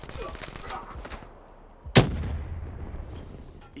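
Gunfire and grenade blasts from the Xbox One game Call of Duty Black Ops 3 multiplayer: a dull rumbling background of battle gives way to one sharp, loud explosion near the middle, followed by a lingering low boom.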